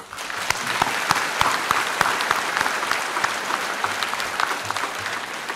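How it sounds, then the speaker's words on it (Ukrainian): A packed audience bursts into loud, sustained applause at a public event in Kharkiv honoring soldiers of a mechanized brigade, with dense, continuous clapping marked by sharper individual claps near the listener. "Дозвольте ці оплески присвятити не лише рядовому Сергієву, але і всім героїчним бійцям 93-ї Харківської бригади"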